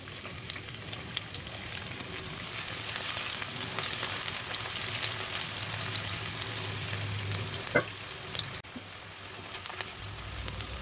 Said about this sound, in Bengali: তৈলটা একটু গরম হলে পেঁয়াজ কুচি দিয়ে ভালো করে একটু বাদামি কালার করে ভেজে নিলাম।